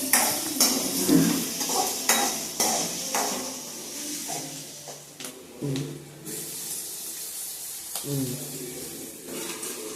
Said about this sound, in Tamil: கிளறி விடு